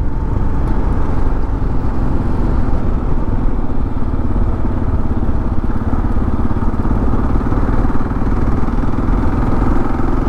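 A 2022 Kawasaki KLR 650 adventure motorcycle is ridden on a gravel road, its engine droning loud and close with a throbbing low rumble and gravelly clatter, holding steady for ten seconds with no voice.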